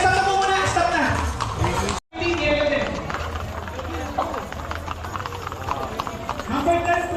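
Racehorses gallop in a local town horse race, their rapid hoofbeats drumming steadily beneath constant talk from people nearby.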